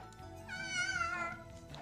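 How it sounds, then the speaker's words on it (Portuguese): A cat meowing faintly in the background, one drawn-out rising and falling meow under a low hum. "Eu ouvi um miado, mano."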